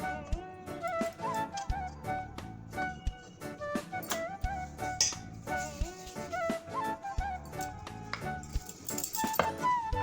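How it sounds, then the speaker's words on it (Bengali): A fork pricks rolled mathri dough, the Mathura-style savoury snack, on both sides. It makes a run of light, quick clicking taps at an uneven rhythm over soft tonal background music. "ওই জন্য আপনারা 2 পিঠ এইভাবে কাঁটা চামচ দিয়ে এইভাবে পক করে দেবেন"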